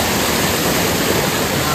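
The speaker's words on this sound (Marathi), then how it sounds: "केवढा धबधबा आहे बघ." A large waterfall roars nearby, a loud, unbroken rush of falling water filling the short moment with no pause or change in level.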